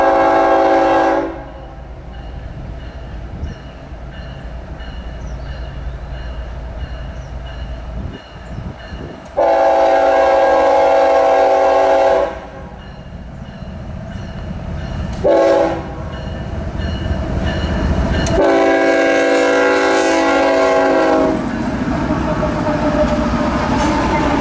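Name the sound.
CN intermodal freight train passing with horn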